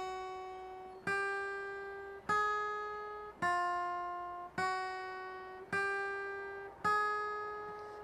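Single guitar notes are picked one at a time in a legato style, six evenly spaced clean tones that ring and fade gradually into the next, played close and quiet with no speech.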